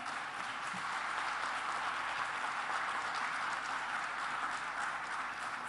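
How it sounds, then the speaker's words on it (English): Audience applause at an on-stage honoring of three women, a steady, dense and fairly faint wash of clapping that holds evenly throughout without voices. "A big round of applause."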